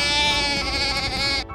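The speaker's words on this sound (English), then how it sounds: "Do you know what sounds lambs make?" A lamb bleats loudly and continuously, a sustained wavering cry lasting over a second before cutting off.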